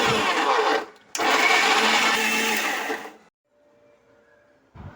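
A mixer grinder whirs loudly while grinding tomato chutney with chillies and salt, in two bursts with a brief pause between, then cuts off, leaving near silence before a short restart at the end.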